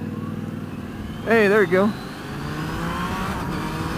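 A Yamaha Niken GT three-wheeled motorcycle engine hums steadily, then briefly rises in pitch as it accelerates. Someone speaks over the engine noise.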